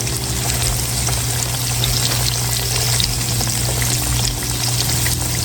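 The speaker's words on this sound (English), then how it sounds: "we're gonna fry these until they are golden brown on each side" Catfish pieces fry in hot oil, giving a loud, dense, continuous sizzle with crackling and bubbling that holds steady throughout, close by and with no one talking.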